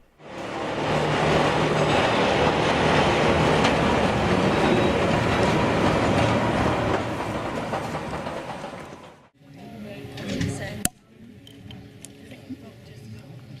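A loud, steady roar of a mountain rack train rumbling along the track near the Jungfrau with a rattling undertone, then it cuts to a quieter scene with faint clanks and a sharp click.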